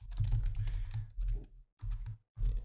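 Code being typed on a computer keyboard, a fast run of clicking keystrokes in short bursts with brief pauses between them, close up and without any talking.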